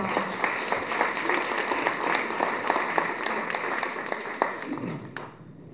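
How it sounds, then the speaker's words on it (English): Warm applause from a conference audience fills the room for a councilmember, steady dense clapping with a few sharper claps, fading out near the end. "Let's give him a warm round of applause."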